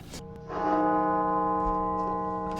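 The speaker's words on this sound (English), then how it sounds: "The Washington National Cathedral tolled its funeral bell 900 times" Washington National Cathedral's funeral bell tolls once, struck near the start and then ringing on as a long, steady, slowly fading hum of layered tones, alone with no voices.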